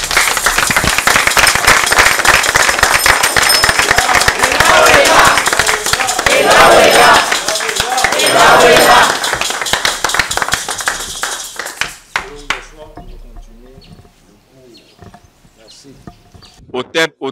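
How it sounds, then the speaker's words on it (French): Loud, dense applause and cheering from a crowd at a memorial tribute to Kalala Omotundé, sustained for about twelve seconds, then fading to scattered claps with voices speaking over them. "Applaudissons pour lui"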